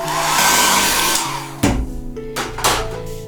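A hair dryer blows loud and close over a watercolor butterfly painting, a steady whooshing roar that cuts off and restarts in shorter bursts, with no voices.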